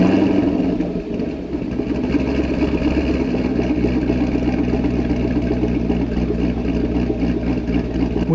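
Chevrolet Corvette C6 with an LS2 V8 and new camshaft, driving, a loud steady low engine drone with a choppy rumble, continuous and close throughout.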